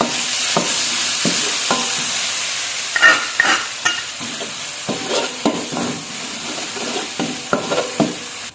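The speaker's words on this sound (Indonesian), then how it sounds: "Kita lanjut tumis untuk bumbunya." Spice paste (bumbu) stir-fried in a pan for chicken noodles, a steady close sizzle broken by repeated scraping stirs of the spatula at an irregular rhythm, with no voices.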